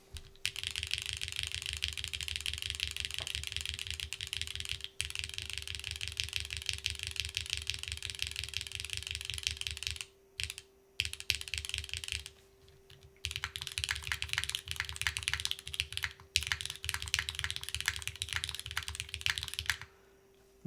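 Typing on a Neo60cu mechanical keyboard fitted with Gateron Milky Top L'Orange switches: fast, steady clacking keystrokes up close, with a couple of short pauses and a faint constant hum underneath.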